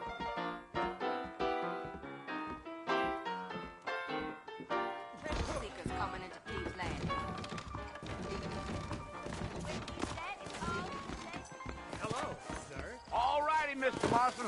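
Horse hooves clip-clopping in the Western video game Red Dead Redemption, a busy stream of hoof knocks under music and speaking voices, with a denser mix of sound in the second half.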